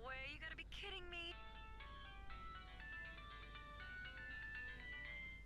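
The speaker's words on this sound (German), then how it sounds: "Klingelt jetzt Ihr Handy?" A mobile phone in a video game plays a bright, melodic ringtone that repeats steadily for several seconds, following a short burst of other game sounds at the start.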